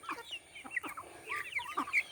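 Chickens of several fancy and silky breeds cluck softly in short scattered calls, fairly faint with farmyard background and no talking.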